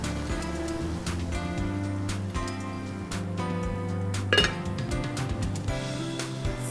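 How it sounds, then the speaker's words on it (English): A spoon clinks repeatedly against a pan while stirring poha with coriander leaves, light metallic taps in an uneven rhythm over a steady low hum, nearby with no talk. "Mix everything well."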